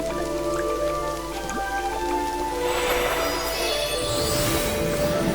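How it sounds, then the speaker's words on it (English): Steady rain patters and drips across the scene in the video game Genshin Impact, a dense continuous wash that swells slightly louder midway, with faint game tones and no voices. "I think it was already raining."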